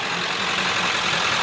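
A freshly rebuilt International DT466 engine in a dump truck runs with a broken exhaust clamp, giving a steady, loud, rough roar with no talk.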